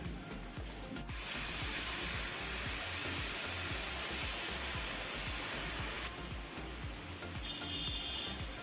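Gram flour dough pressed through a sev press fries in hot oil, giving a loud, continuous close-up sizzle that stays even throughout.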